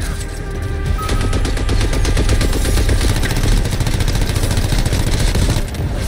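Rapid, sustained gunfire in the video game Anthem, loud automatic bursts rattling almost continuously with a dense mechanical backdrop.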